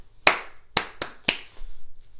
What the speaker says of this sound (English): How about I tell you the rhythm and you clap it?